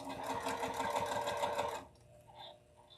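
A sewing machine stitches around an appliqué shape on a quilt with backing attached, a fast close mechanical whirr that runs for almost two seconds and then stops abruptly, leaving quiet room tone.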